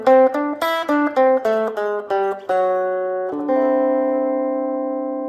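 Electric guitar plays a short blues lick over the IV chord, a quick run of plucked single notes and double stops that ends on a ringing, sustained chord, clear and close with no talking.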